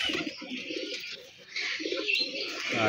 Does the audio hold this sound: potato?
no